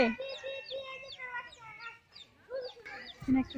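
Chicken chick caught and freed outdoors near a river, with high chirps and clucking fowl calls repeating close by in short bursts across the clip, mixed with other bird sounds.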